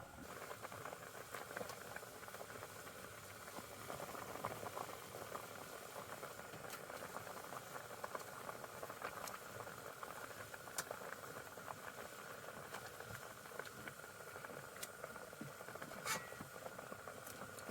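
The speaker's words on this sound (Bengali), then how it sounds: "এবারে আমাদের তরকারিটা ফুটে গেছে এবার আমরা ইলিশ মাছগুলো ঝোলের উপর দিয়ে দেবো" Fish curry bubbling on a steady boil in a pot before hilsa is added, a continuous faint simmering hiss with small pops throughout, no talking.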